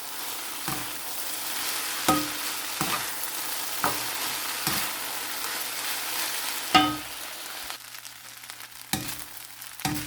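Fried rice with eggs and vegetables is stirred in a pan with a steady sizzle, as repeated scrapes and clanks of the utensil against the pan come every second or so, loud and close, with no talking.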